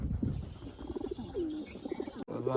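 A pigeon coos in a few soft, rolling phrases close by near a home water spot, with faint chirps and a brief rustle near the end.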